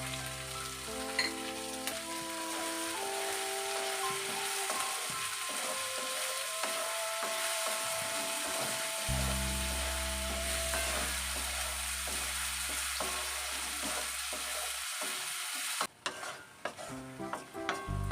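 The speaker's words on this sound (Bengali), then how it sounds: "সব রকম সবজি ভাজা হয়ে গেছে" Mixed vegetables with salt frying and being stirred in a pan, giving a soft steady sizzle with scraping stirs, under background music.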